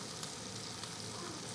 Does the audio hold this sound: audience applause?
no